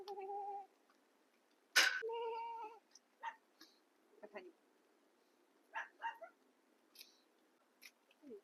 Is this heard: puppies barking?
yes